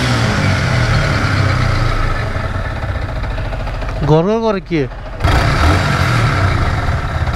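A second-hand Yamaha R15 motorcycle engine runs at a garage with a rough, steady low rumble throughout, interrupted briefly by a short tonal sound, while someone talks over it.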